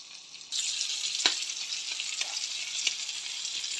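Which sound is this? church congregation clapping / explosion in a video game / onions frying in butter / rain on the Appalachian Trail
onions frying in butter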